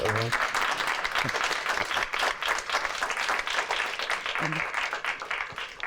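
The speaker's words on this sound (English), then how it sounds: "So give them a round of applause." Audience applause at a talk on climate, community and coastal resilience, a moderate round of clapping from a seated crowd with brief voices breaking through near the start and again later.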